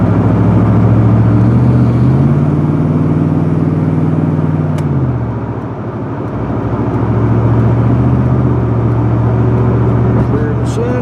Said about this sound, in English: Got me a freshly fueled V8 and a whole bunch of slow cars.